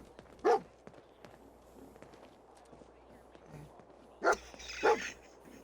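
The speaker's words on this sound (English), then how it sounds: "My thieving dog." A dog in Fallout 4 barks three times, one early sharp bark and then two close together near the end, under a low game ambience with faint footsteps.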